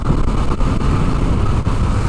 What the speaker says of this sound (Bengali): হুগলি সেতুর উপর দিয়ে বাইক চালিয়ে যাচ্ছি